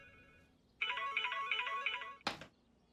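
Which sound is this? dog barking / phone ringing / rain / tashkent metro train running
phone ringing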